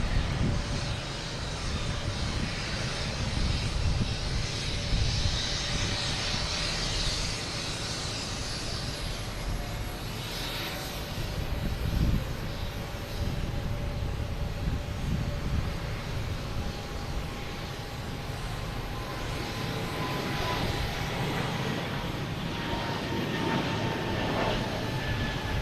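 A JetBlue Airbus A220 jet takes off at Boston Logan, a sustained loud engine roar with a rising high whine, steady and continuous, heard from a distance across the airfield.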